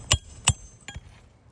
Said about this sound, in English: now that I'm making these hammer hits, I'm seeing and hearing a lot of granules